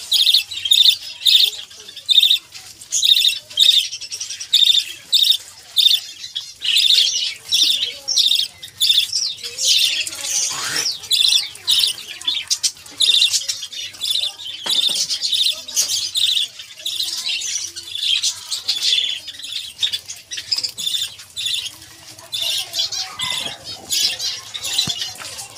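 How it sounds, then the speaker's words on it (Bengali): Finches on a bird farm chirp and squawk nonstop as they come down to eat scattered grain, a busy, close chorus of high tweets with occasional wing flutters, all without talk. "দানা দেওয়ার পরে পিন্সগুলো দানা খেতে নেমে গেছে।"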